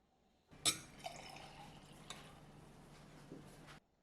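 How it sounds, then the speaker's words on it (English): Ice cream soda pours into a cocktail glass with nata de coco and syrup, giving a soft continuous fizzing trickle with small splashes and drips, quiet and close. "Next, pour 150 ml of ice cream soda."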